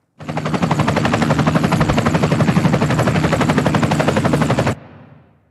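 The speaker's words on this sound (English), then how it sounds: "Oh, Ian's landing. He's dropping Kurt off at the platform." A helicopter lands at a platform: a loud, steady rotor chop, rapid and continuous for several seconds, then it cuts off sharply and a low rumble fades out.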